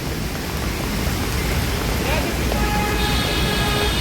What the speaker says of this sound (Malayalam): പുറത്തൊക്കെ നല്ല മഴയായി.